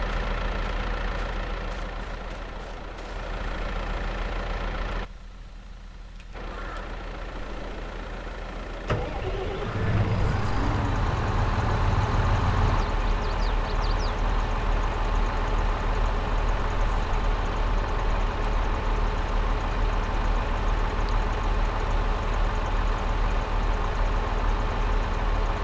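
Tractor engine in Farming Simulator 22, a steady mid-pitched idle that drops briefly, then revs up louder and holds a continuous drone to the end.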